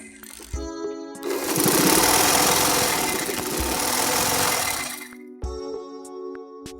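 A sewing machine runs a continuous topstitch over the belt of a salwar, one sustained loud whirring run of several seconds, close up, with short clicks of starting and stopping on either side.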